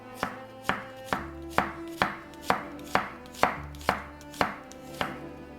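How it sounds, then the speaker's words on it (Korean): A Japanese kitchen knife chops an onion on a board in about a dozen evenly spaced, crisp knocks, close up, with no talking. "일본 식도로 먼저 양파를 썰어 보도록 할게요."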